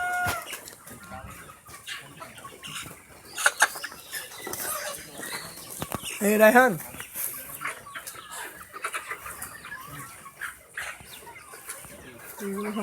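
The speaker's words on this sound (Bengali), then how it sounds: "এটা একটা সোনালী মুরগির ফার্ম।" Sonali chickens cluck and squawk in a hen farm, fairly close and at moderate volume. One louder burst of calls stands out, and people talk over the flock at times.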